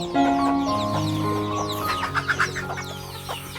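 Country hens in a backyard flock cluck and chatter continuously nearby, with a run of short, bright calls standing out toward the end.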